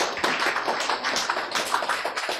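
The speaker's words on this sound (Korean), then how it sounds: "박수 쳐야지!" Audience clapping in a lecture hall, a dense burst of many hands applauding together with a steady, fairly close rhythm throughout.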